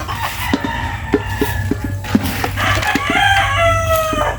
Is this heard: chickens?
yes